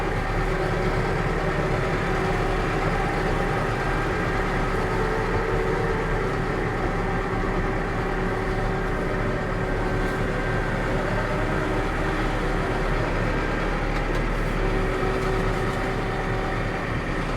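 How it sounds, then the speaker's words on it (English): A big tractor's engine, loaded alongside a Claas Arion 470, runs steadily and close for the whole stretch, a dense low rumble with constant harmonic drone, no voices. "This is a big tractor."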